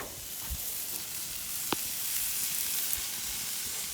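Marinated pork chops sizzle on a grill just after being flipped, a steady close hiss with one sharp crackle midway and no voices.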